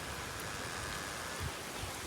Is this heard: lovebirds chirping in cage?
no